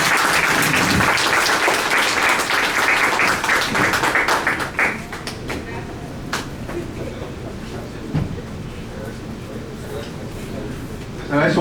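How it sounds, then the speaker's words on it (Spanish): A crowd claps loudly and steadily, then the applause thins out to scattered claps and quieter background murmur before swelling slightly again at the end. "Y ahora sí les damos un fuerte aplauso"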